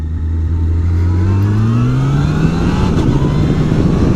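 A Yamaha FJR touring motorcycle with an aftermarket HealTech quickshifter upshifts from first to second: loud, close engine drone climbing in pitch, a brief seamless dip at the shift, then pulling on steadily in the next gear.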